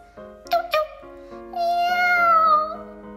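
A cat meows twice in short, close chirps, followed by a longer drawn-out meow, loud and clear with no other sounds.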